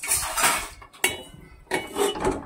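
Whole spices including cinnamon and star anise dry-roasting in a pan with no oil, scraped and tossed with a metal utensil that clatters in bursts, with short quiet gaps, up close.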